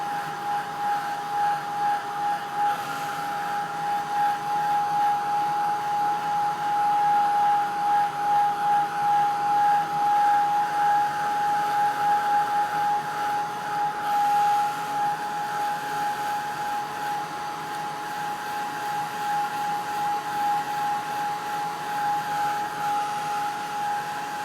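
A heat tool drying paper for card making blows with a steady, close whirring drone and a constant high whine, running unbroken for about twenty-five seconds with slight swells and no talk.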